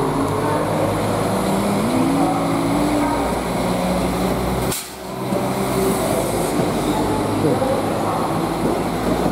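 A Northern Class 195 train departs York for Leeds, rumbling and rolling loudly with a steady drone, a brief dip in the noise midway, and wheel clatter underneath.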